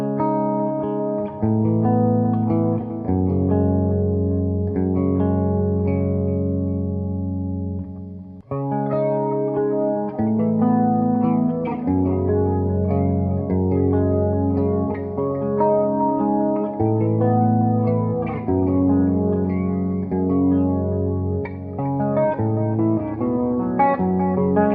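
Clean guitar notes through a Buffalo FX Reticon Flanger pedal set to a slow rate, drenched in a sweeping flange between flanger and chorus, the tone swirling gently as chords ring out continuously.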